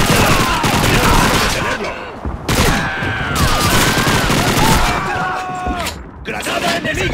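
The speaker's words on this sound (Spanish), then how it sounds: "¡Es una MG!" Heavy MG machine gun fire in the Call of Duty 2 campaign, dense and loud, in sustained bursts with short gaps, while voices shout over the battle.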